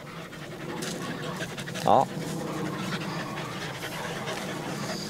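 White, fluffy Bac Ha dogs pant steadily while playing nearby, and a person talks over the breathing throughout.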